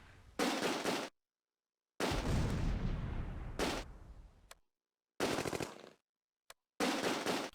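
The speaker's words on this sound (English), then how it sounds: "But the gun keeps firing." Gunfire from a World War II gun battle at a bridge in the Close Combat strategy game, loud bursts of rapid machine-gun and rifle shots in several separated volleys with brief silences between, one burst trailing off into a rumbling echo.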